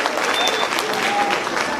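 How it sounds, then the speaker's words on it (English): A crowd applauds teachers at a sixth grade promotion and awards ceremony, loud and dense clapping filling the room, with some cheering and crowd noise mixed in. "Let's give them a round of applause."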